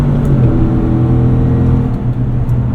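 A 2018 Chevrolet Tahoe RST Performance Edition's engine pulls hard under acceleration, a loud, continuous low rumble and growl heard from inside the cabin without a break.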